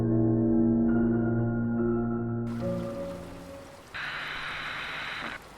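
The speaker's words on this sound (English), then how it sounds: "We've got some light rain coming down tonight." Light rain hisses softly as a horror radio ambience, rising as sustained synth tones fade away, with a brighter band of rainfall swelling in partway through before dropping off.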